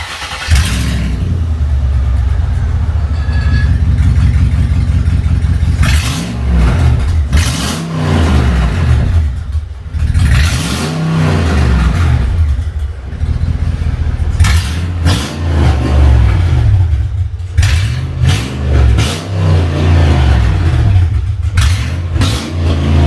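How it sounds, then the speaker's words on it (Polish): Mercedes CLS 500 W219 V8 running without an exhaust, loud and raw, with repeated sharp revs rising and falling over a rough idle, heard up close and without talk. "Zrobimy wszystko, byle odpalić furę bez wydechu."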